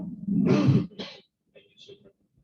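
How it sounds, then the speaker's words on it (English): A person coughs up close during a school committee meeting, one harsh burst followed by a shorter one, then a few quiet breathy sounds. "this is the part where I start coughing"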